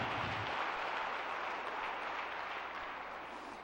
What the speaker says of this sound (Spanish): Dale un fuerte aplauso al Señor en esta